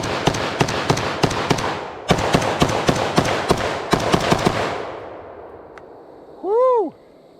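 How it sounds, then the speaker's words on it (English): A SIG SG751 SOCOM rifle fires a full magazine at a range, a rapid string of loud, close shots in three bursts with short gaps, ringing echoes trailing off and a brief whooping voice at the end. "here's the first mag through the SOCOM version"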